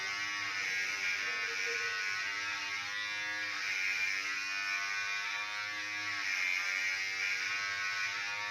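Electric clippers buzz steadily while shaving a dog's fur down close to the skin, a continuous, close, high-pitched electric hum with slight changes in pitch as the blades move through the coat, with no voices.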